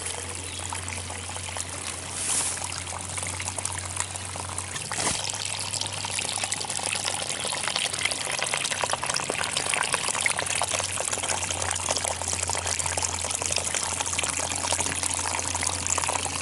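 Water runs steadily out of a leaking garden pond, a continuous pouring and trickling that grows slightly louder and fuller as it goes on. The sound is close and there is no talk.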